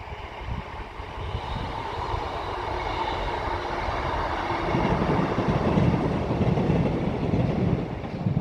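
A train rolls past on a railway line, heard from a bike ride around town: a steady broad rumble with faint clickety-clack that swells louder and nearer about halfway through, with no voices.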